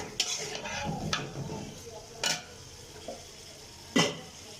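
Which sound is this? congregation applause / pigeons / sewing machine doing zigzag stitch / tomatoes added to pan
tomatoes added to pan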